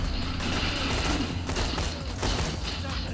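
Gunfire with grenade blasts from the video game Borderlands 2, a steady dense fusillade of shots and thuds running throughout, loud and continuous.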